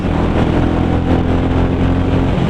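A 2022 Royal Enfield Classic 350 Halcyon Green motorcycle pulls away and accelerates from a signal, its single-cylinder engine thumping loud and close in a steady, continuous drone.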